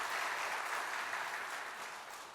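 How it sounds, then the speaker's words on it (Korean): A church congregation applauds during a Sunday worship service, producing a dense, steady wash of clapping that stays loud throughout and eases off slightly at the end. "다시 한번 박수 한번 해주시고요"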